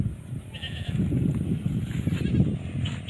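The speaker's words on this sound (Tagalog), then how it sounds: "May kambing talaga dito." A goat bleats softly over steady outdoor background noise, with a faint second bleat later; no talking.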